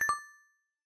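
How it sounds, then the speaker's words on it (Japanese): A notification chime from a story video game rings at a doorway, two quick bright bell-like tones that ring out and fade to silence within half a second, heard alone. "私にとっては聞き慣れた通知音が玄関に鳴り響いた。"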